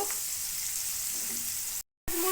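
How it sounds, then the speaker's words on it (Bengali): Chopped onion fries in a pan of hot oil where potatoes were just fried, for a fish dish. A steady, bright sizzle runs throughout with a brief drop to silence just before the end. "পেঁয়াজটা আমি খুব ভালো করে ভেজে নিব"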